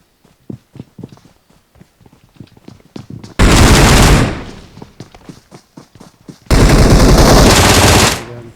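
Automatic gunfire from a video game blasts in two long, loud sustained bursts, separated by a stretch of quieter clicks and taps before and between them.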